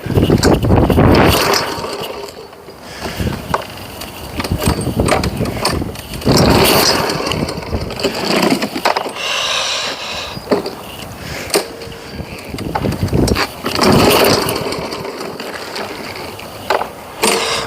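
A lawn mower engine in Edmonton, Alberta, fails to start: several separate loud bursts of cranking and sputtering, each dying away with no steady running engine.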